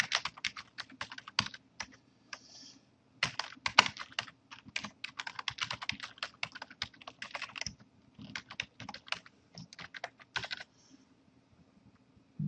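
Rapid typing on a computer keyboard, close and clear, in irregular bursts of clicking keystrokes with brief pauses between them.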